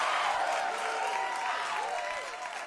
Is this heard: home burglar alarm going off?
no